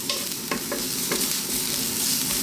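Egg fried rice ingredients fry over very high heat in a wok, a loud, dense sizzle broken by several sharp scraping stirs, close and without any voice.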